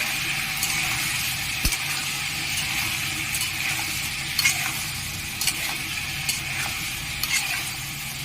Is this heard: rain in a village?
no